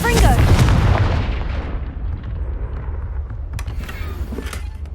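Casting Confringo in Hogwarts Legacy sets off a fiery blast, a loud booming burst that opens the clip and fades into a rumbling tail, with faint crackles near the end.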